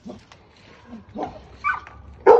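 A puppy gives a few short, sharp barks and whimpers, close by and fairly loud, with the last yelps the strongest, in a quiet outdoor setting.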